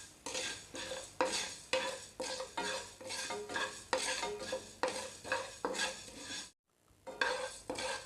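Cumin seeds frying in a pan for a chilli masala, stirred with a utensil in steady, rhythmic scraping strokes over a soft sizzle, with a brief pause near the end before the stirring resumes.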